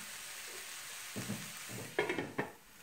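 Kung Pao chicken ingredients frying in a pan, a soft steady sizzle that gives way to several close scrapes and clatters of a spatula stirring near the end.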